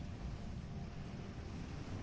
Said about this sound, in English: blending with the distant ocean waves beyond the cliffs outside